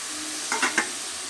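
Chopped potatoes added to cooked spices in a pan, with a steady background sizzle and three quick close stirring scrapes in the middle of a brief moment, no talk.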